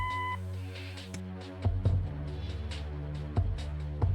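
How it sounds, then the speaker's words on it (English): A short electronic answering-machine beep in the video game Kathy Rain sounds at the very start, then gives way to a steady layer of game music. "Leave a message after the beep."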